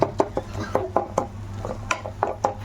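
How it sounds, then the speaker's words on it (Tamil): Chili powder is sautéed in a pan with a run of sharp, evenly spaced clinks and scrapes from a utensil against the metal, close and clear, with a faint low hum behind it. "வெறும் மிளகாத்தூள் இதில் ஆட் பண்ணிக்கணும், ஓகேவா? பார்ப்போம், வதக்கிக்கலாம் நல்லா"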